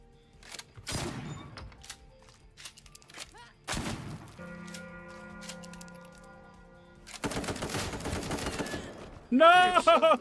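Shotgun blasts and other gunfire ring out in the video game Killer Inn, coming as separate loud bursts between quieter stretches that carry a steady tonal hum, with a sharp electronic chirp at the very end.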